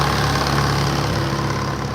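A vintage tractor engine runs steadily nearby, giving a loud, even, low mechanical hum with a constant throb.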